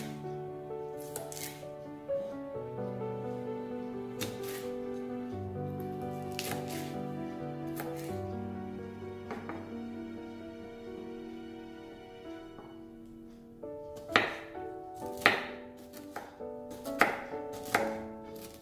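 A knife finely chops okra (lady's finger) on a board for palya, with a run of sharp, close chops clustered near the end over a soft tonal background.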